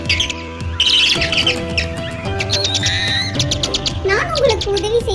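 Weaver bird chicks screaming in fear, voiced in a children's cartoon: shrill, wavering squawks and cries from a voice imitating the frightened chicks, loud and close, layered over a musical background.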